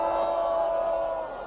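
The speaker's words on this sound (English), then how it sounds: "booing." A crowd boos in a long, steady, droning jeer that holds at an even level and eases slightly toward the end.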